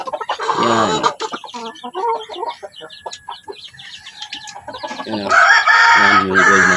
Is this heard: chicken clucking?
yes